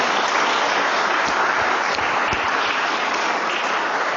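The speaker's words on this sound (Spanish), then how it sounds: "Denle un fuerte aplauso al Señor entonces por su palabra" A Spanish-speaking church congregation gives a loud, sustained round of applause after the sermon, a dense continuous roar of clapping that stays even from start to finish.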